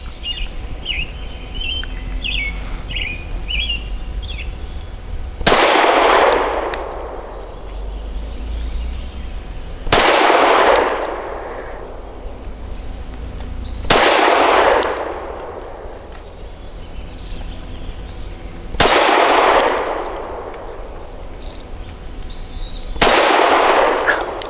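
An Arex Delta M pistol firing CCI 115 grain bulk ammo outdoors lets off five loud, widely spaced single shots, each with a long ringing decay, while birds chirp faintly at the start.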